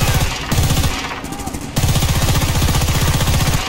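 Rapid automatic gunfire from Battlefield: Bad Company 2, loud and close, comes in sustained bursts with a brief pause midway and then resumes.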